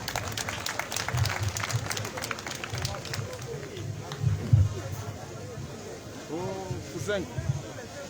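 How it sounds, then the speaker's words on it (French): An audience at the opening ceremony of a cultural festival applauds an introduced guest, a crowd clapping in a broad wash with voices and background chatter mixed throughout. "Sous vos acclamations, s'il vous plaît."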